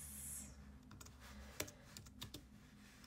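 Quiet clicking of a computer keyboard being typed on, several soft irregular keystrokes close by with a faint hiss at the start, no voice.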